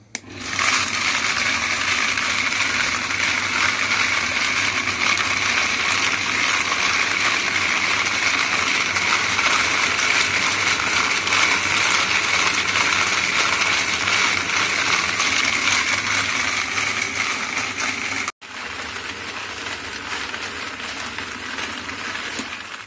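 A loud, continuous mechanical churning and rattling hum from a wet tumbler cleaning cartridge cases, running steadily before dropping briefly and resuming slightly quieter.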